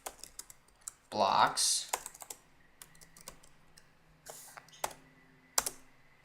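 Typing on a computer keyboard: a dense burst of rapid keystrokes, then scattered single clicks and short runs, close and fairly quiet, with a brief spoken word.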